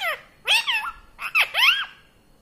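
A pet parrot imitates a cat's meow, producing four or five clear, close, meow-like calls in two quick groups with short pauses between, no speech.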